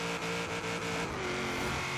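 Knight Rider KITT car build in the racing game Forza Horizon 3 revs hard with a steady, loud droning engine tone and faint tire noise, alone without voices.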